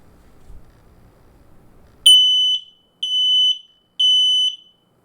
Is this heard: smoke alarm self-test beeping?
yes